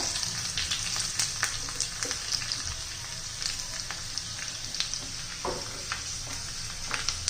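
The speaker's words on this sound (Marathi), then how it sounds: "मी तेल गरम करून घेतले त्यात मोहरी घालायची जिरं घालायचंय भरपूर असं लांबट असा मी लसूण चिरून घेतला तो पण घालायचा" Mustard seeds, cumin and sliced garlic fry in hot oil for a fenugreek-leaf curry tempering, giving a steady close sizzle with scattered sharp crackles and pops throughout, with no talking.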